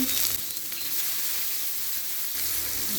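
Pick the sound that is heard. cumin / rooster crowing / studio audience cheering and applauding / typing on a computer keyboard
cumin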